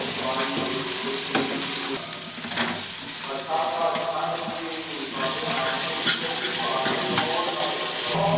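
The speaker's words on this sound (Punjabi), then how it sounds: "ਪਿਆਜ਼ਾਂ ਨੂੰ ਆਪਾਂ ਗੁਲਾਬੀ ਹੋਣ ਤੱਕ ਭੁੰਨਾਂਗੇ" Onions sizzle and fry steadily in a pan with ginger, garlic and chili paste, with occasional stirring scrapes and clinks, close and continuous with no talking.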